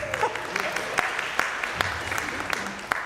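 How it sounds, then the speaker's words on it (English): Congregation applauding inside the TVUUC sanctuary during an intergenerational service, a scattered, moderate patter of hand claps with a few sharper individual claps standing out. "I appreciate the applause."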